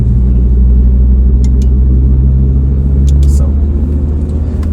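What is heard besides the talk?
Audi RS3 8V1 engine warming up on dyno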